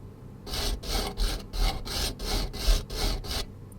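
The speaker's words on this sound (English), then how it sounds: "Cleaning the bolt" Bolt cleaning in Offroad Mechanic Simulator: about eight quick, evenly spaced scrubbing strokes, a steady back-and-forth rasp like a wire brush on metal, close and moderately loud with no talking.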